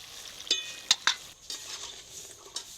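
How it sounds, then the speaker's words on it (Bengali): Semolina gulab jamun fry gently in oil on low heat with a soft, steady sizzle, broken by a few sharp utensil clinks against the pan near the start and later. "এগুলো হালকা আঁচে ভাজা হতে থাক"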